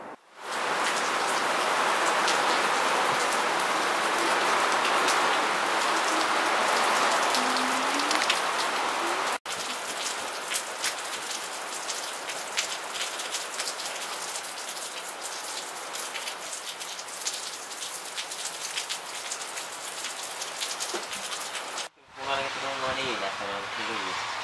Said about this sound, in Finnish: Pihalla sataa vettä